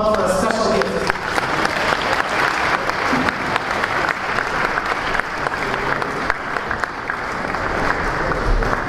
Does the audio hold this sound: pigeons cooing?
no